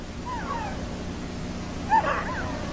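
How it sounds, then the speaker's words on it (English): Husky dogs and puppies aboard an Antarctic expedition ship during Operation Highjump give two short, thin whimpers, one early and one near the end, over a steady low engine-like rumble. "Ricky, the veteran husky, presides as the pups become doggy shellbacks."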